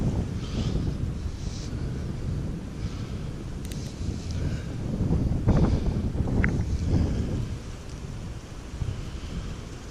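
Steady wind buffeting the microphone, a low rumbling roar with gusts swelling and easing throughout, no voices.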